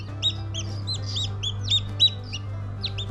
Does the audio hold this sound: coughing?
no